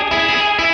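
Short burst of electric guitar through a Boss RV-200 reverb pedal on its Fender-style spring setting, drenched in splashy spring reverb, bright and sustained with a wet, ringing tail.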